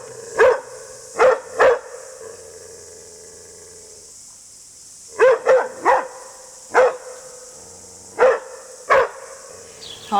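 Dog barking on a rural property, sharp barks in two clusters of three, a pause, then more, sounding fairly near against a quiet background.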